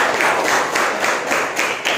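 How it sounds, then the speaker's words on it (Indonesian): A classroom of students claps hands together in a dense, sustained round of applause with faint rhythmic swells, close and steady for about two seconds, with no talking. "Oke, tepuk tangan ya"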